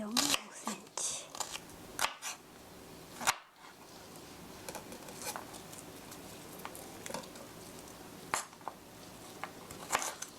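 Two onions being cut into half-centimetre slices for jajangmyeon, giving close, crisp knife taps and chops against a cutting board in irregular bursts, with a voice talking over parts of it.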